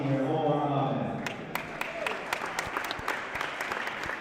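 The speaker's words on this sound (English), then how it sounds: "round of applause for the Mahwah senior" Crowd applause at a boys varsity basketball game honoring a senior: an announcer's voice fades into a scattered, moderately loud patter of clapping with sharp individual claps standing out.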